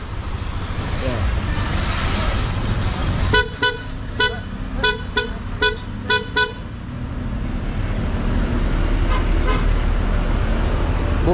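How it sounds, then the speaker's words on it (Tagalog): A Yamaha Aerox 155 motorcycle horn, restored after water damage had weakened it, honks several short times in a row, loud and close, over a background rumble of traffic and engine noise. "Bumalik sa normal yung busina niya"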